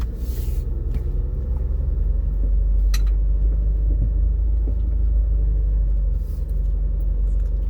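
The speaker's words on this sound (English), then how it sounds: "We're driving past the outhouse." A car drives along a rural road past an outhouse, its steady low engine rumble and road noise continuous and close throughout, with no talking.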